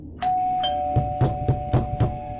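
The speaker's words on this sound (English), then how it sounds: "the doorbell rang again" A doorbell chimes once with a sustained tone, followed by five evenly spaced dull knocks or thumps.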